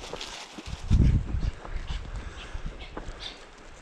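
Hunting dogs bark outdoors before a rabbit hunt, a burst of close barks followed by scattered yelps and whimpers over rustling movement.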